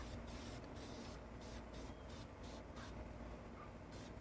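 Metal flake paint hisses from a spray can onto a fabricated part in short, even bursts separated by brief pauses, close and steady throughout.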